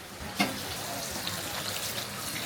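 Automatic tap at a Japanese shrine hand-washing basin in Tsuruga runs steadily, a soft continuous splash of water close by with a brief knock near the start.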